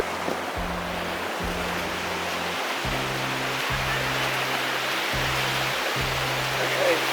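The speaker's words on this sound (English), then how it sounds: "I don't think you get much more back noise than you would the ocean when you're walking in the waves." Ocean waves washing in while walking through the surf, recorded on a Panasonic TZ55 camera microphone: a constant broadband roar of water with wind-like rumble and repeated low thumps from handling or footsteps.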